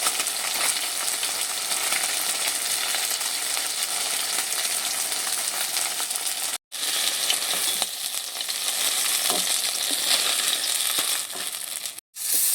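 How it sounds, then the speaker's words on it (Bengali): Whole small Bombay duck (loitta) fish frying in oil in a kadai, a loud, steady broadband sizzle that carries on alone, broken by two brief pauses. "দেখুন গোটা গোটা মাছগুলো, নেহেড়ে মাছগুলো ভেজে নিচ্ছি।"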